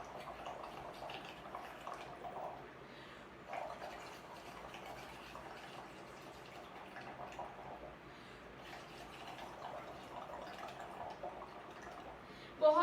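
Air blown through a straw into a large glass holding a little water makes soft, bubbling gurgles in repeated bursts with brief pauses between, quiet and close, ending in a louder final burst.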